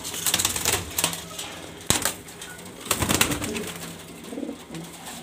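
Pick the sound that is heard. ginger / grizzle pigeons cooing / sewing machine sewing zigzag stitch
grizzle pigeons cooing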